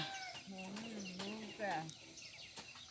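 Chickens cluck and call at a rural farm home, several close, rising and falling clucks heard alone over a quiet yard.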